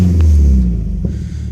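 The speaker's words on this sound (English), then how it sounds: "Exhaust has a nice tone to it." A 2004 Subaru STi engine revs briefly, a loud, deep exhaust rumble near the microphone that eases off after a moment.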